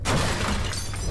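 A pizza delivery van crashing in a Roblox game, heard as one loud, sudden burst of breaking and shattering noise that fills a brief moment and stays dense throughout.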